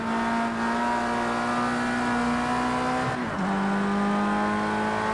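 Project CARS 2 race car engine holds a loud, steady high drone, its pitch dipping briefly in the middle as if shifting or lifting, then settling back to a constant roar, with no talking.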